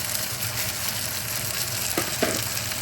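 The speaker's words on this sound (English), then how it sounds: "First, I'm going to add in the root stock. I want this to cook down a tad." Root stock sizzles as it cooks down in a pan, a steady soft frying hiss with a couple of brief stirring scrapes near the end.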